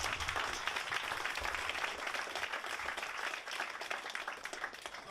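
Steady applause from a workshop audience on MEV and orderflow, a dense round of clapping at moderate volume that runs throughout, dipping briefly near the end.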